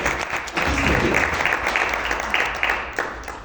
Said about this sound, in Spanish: Denme una ofrenda de palmas ahí